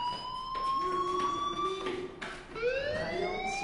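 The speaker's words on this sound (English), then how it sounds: "do you hear that fire alarm?" Fire alarm from the video game Life is Strange, a sustained tonal wail with rising harmonic sweeps that glide and restart, fairly loud and steady with no talk over it.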